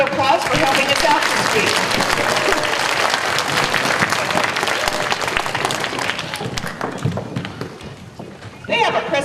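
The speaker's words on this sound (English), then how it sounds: "Let's give them a big round of applause for helping us out" An elementary school morning assembly breaks into loud, sustained applause from a crowd of children and adults, holding steady before fading slightly and swelling again at the end.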